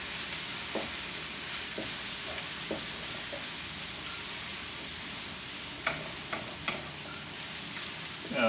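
Shrimp fried rice stir-frying fast in a wok gives a steady, fairly quiet sizzle, with occasional scrapes and clanks of a utensil against the pan, no one speaking.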